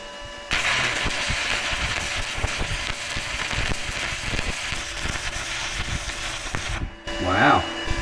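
Stick welder running at 190 amps on a thick chunk of uncleaned metal, a steady crackling hiss held for about six seconds before cutting off, with a brief voice right after.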